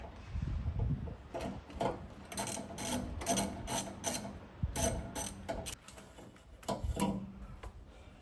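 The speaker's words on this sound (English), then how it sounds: "take a ratchet or a socket, 12mm socket with the ratchet, and just kind of take it out." A ratchet and 12mm socket backs out the speed sensor bolt on an Acura RSX Type S K-series transmission, giving close bursts of quick ratcheting clicks with brief pauses between strokes.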